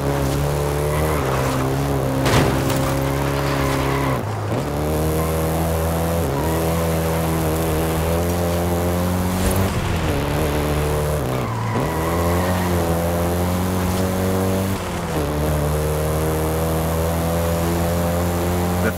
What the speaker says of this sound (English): the Golf GTI you're driving right now